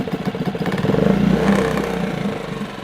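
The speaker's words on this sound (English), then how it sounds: "I'm going to give it a nice tug on the manual pull start. And it started." Hidea four-stroke outboard motor just pull-started, running with a rapid pulsing putter that rises briefly in revs, then settles into a steady, close idle.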